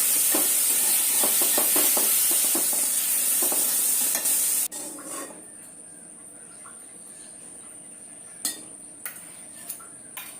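Chicken meat sizzling and frying in a home kitchen pan, with loud, steady hissing for about four seconds, then a sudden drop to a quieter background with a few scattered clinks and taps.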